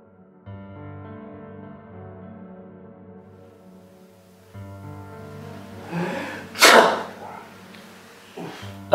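A single sharp sneeze bursts out after a stretch of quiet sustained tones, followed by a brief sniff.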